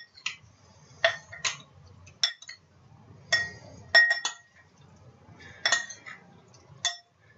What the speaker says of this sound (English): go ahead and gently toss that again to make sure all that vinaigrette coats all of our ingredients